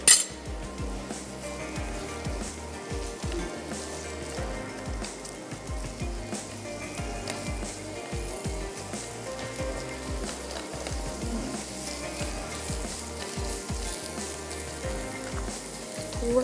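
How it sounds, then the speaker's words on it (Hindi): Onions sauté in a pan for a Mexican spicy rice, giving a close, continuous sizzle with soft scraping and clinking as they are stirred, and nobody speaking. "सौते होने देते हैं, यानी कि एटलीस्ट प्याज थोड़ी सी सफ़ेद होनी शुरू हो जाए"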